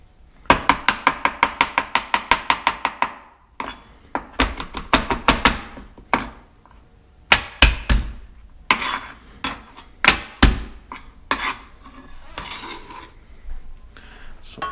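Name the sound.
crushing a garlic clove on a cutting board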